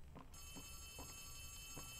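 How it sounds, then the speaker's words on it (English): A faint electronic phone ring in a video game repeats in short bursts about every half second over a low rumbling background with a steady high whine. "Why is the phone ringing?"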